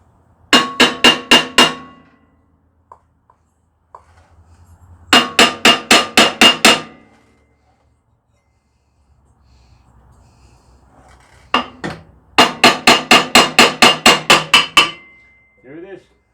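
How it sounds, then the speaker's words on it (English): A hammer striking the flywheel of an old Montgomery Ward snowblower to shock it loose: three bursts of rapid, sharp metallic blows, roughly six to ten in each, close and loud, separated by quiet pauses. "Used a hammer to shock the flywheel"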